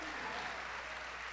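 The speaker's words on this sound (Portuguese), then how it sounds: "Aplauda o Senhor." A church congregation applauds during a Sunday morning service, a steady dense wash of clapping that holds evenly for its brief length with no break.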